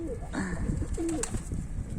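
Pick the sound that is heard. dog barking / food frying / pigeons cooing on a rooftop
pigeons cooing on a rooftop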